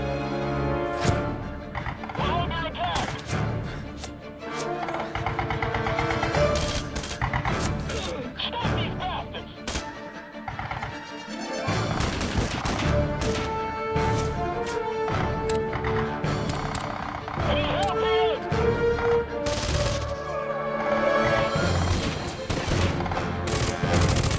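Soldiers firing guns in Red Faction Guerrilla: dense, continuous rapid shots and crashes over a long stretch, loud and close, mixed with other game effects and occasional voices.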